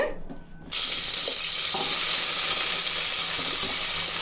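Roughly a quarter kilo of chopped small onions hit hot oil for a head-meat curry, a loud, steady sizzle bursting in after a quiet moment and hissing on close up, unbroken and with no talk.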